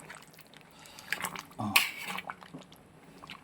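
A spoon stirs Assamese dhaba-style pork curry in a pot after boiling water has been added, giving a few scattered metallic scrapes and clinks over a quiet background, clustered in the middle of the stretch.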